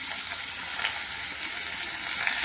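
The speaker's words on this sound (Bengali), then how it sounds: "এই সর্ষের তেল দিয়ে মাছগুলোকে খুব ভালো করে ভেজে নেব" Chanda fish frying in mustard oil give a steady, dense sizzle and crackle that runs close and continuous, with no one speaking.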